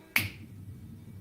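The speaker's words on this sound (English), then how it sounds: "I snap my fingers." A single sharp finger snap rings out near and alone, followed by a faint low room hum.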